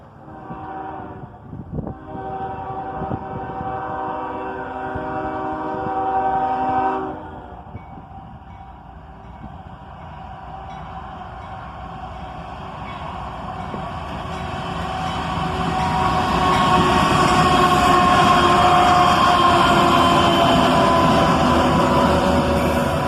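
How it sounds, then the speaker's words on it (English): A CSX intermodal freight train led by an ES44DC, an ES44ACH and an SD43 square cab rebuild blows a loud multi-tone horn, then its roar grows as it approaches and passes close by. "An intermodal train, led by an ES44DC, an ES44ACH, and an SD43 square cab rebuild."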